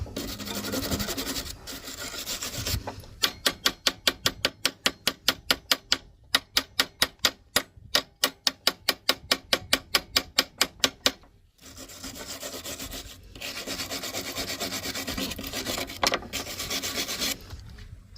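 A brush scrubbing slag off a fresh weld made with a cheap $50 welder, a steady rasping scrub, then a run of quick rhythmic scrapes, then more continuous scrubbing, close and fairly quiet with no speech.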